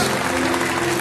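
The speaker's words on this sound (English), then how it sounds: "give the Lord a hand clap of praise" Audience at a Sunday morning church service giving a hand clap of praise, dense, loud applause sustained evenly for the whole moment.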